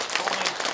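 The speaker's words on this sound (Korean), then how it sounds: "예, 박수." Brief round of applause at an association's New Year gathering in an auditorium, quick uneven clapping from the seated attendees, moderately loud and short.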